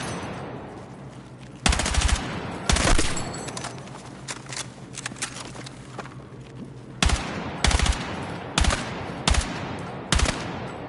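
Gunfire in the video game Battlefield 6, bursts of loud automatic fire in clustered volleys, with quieter distant shots and rumble between them.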